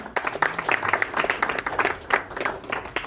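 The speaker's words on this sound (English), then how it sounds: "Big round of applause for him." A crowd at a fight night press conference claps steadily throughout, a dense patter of applause with no one speaking over it.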